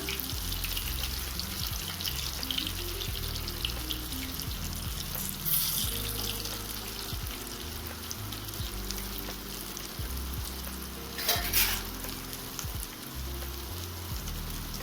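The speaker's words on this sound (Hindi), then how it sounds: "फिर दूसरे साइड से भी अच्छे से फ्राई हो जाएगा।" Besan gatte frying in hot oil give a steady, close, dense sizzle that runs without a break, with a couple of brief louder bursts of spattering. No one speaks.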